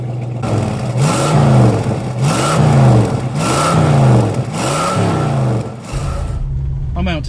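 A 1967 Ford Mustang hardtop with a 302 V8 and automatic transmission, driving with loud, close engine drone that swells and drops through repeated rev and gear-shift cycles, ending with a brief quieter idle.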